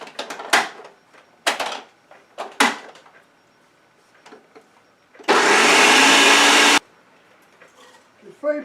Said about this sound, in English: It's just a matter of putting it through a food processor.